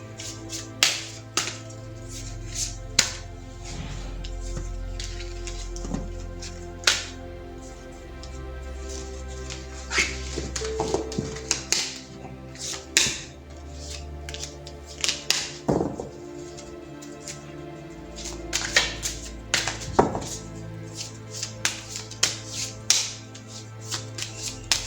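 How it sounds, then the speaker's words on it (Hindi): A deck of tarot cards is shuffled repeatedly by hand, close and clear. The riffles and taps come in irregular bursts with short pauses between them, and no voice is heard over them. "तो चलिए पहले ज़रा कार्ड्स को शफल कर लेते हैं।"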